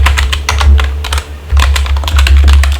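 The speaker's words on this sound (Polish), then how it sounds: "I tutaj wpisujemy tekst, który ma być" Text is typed on a computer keyboard in quick, close, loud bursts of key clacks, with a brief pause near the middle and no one talking.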